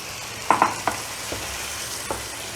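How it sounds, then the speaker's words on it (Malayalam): Ground masala and chicken frying over a high gas flame, with a steady sizzle and several sharp scraping clinks of a spoon stirring the pan, all without voices. "ഇതിലേക്ക് നമ്മൾ ഈ അരച്ച് വെച്ച മസാല ഇടുന്നു"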